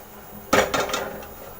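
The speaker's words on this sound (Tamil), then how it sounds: "அதில் ஒரு பாத்திரத்தை வச்சுக்கோங்க." A cooking pot set down on a lit stove while making gulab jamun, a single sharp metallic clank followed by a couple of quick rattling knocks, close and alone.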